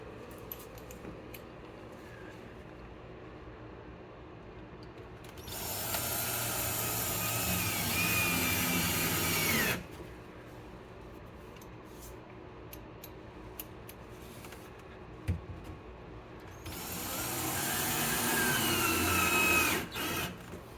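Power drill driving kit screws to attach a pull-out shelf in a bathroom cabinet: two sustained whirring runs of several seconds each, separated by quieter handling clatter, close and loud.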